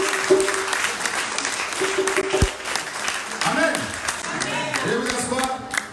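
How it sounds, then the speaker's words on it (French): A church congregation applauds invited guests with sustained, dense clapping filling the room, while a voice and some crowd noise sound beneath it. "Est-ce qu'on peut acclamer ces personnes?"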